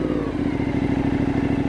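Ducati Pikes Peak 1260 fitted with an Akrapovic titanium exhaust, revving loud and close with a deep, bassy throb and a rapid pulsing beat.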